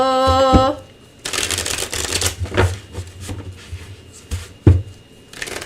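A deck of cards being shuffled at close range, a riffling burst followed by a few sharp snaps and taps, after a short tonal sound at the start.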